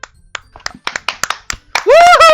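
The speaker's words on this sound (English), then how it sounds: "The 4 of us applaud." Applause during a Doki Doki Literature Club playthrough: a run of sharp, separate hand claps up close, followed by a voice cheering loudly.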